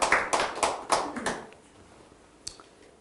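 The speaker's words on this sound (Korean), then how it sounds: "우리 박수로 한번 영광 돌립시다." A congregation at a church seminar gives a short burst of clapping that quickly thins out and fades, leaving a few scattered claps in a quiet room.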